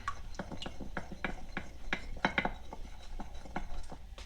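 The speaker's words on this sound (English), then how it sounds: "Just gonna stir that all up." A utensil stirs a soy sauce marinade for chicken wings, making a series of light clinks and scrapes against a bowl in an uneven rhythm, close up and fairly quiet.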